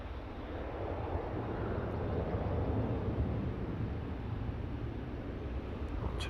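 Airliner departing London Luton Airport heard from a distance, a steady broad roar of engine noise mixed with wind that holds evenly throughout.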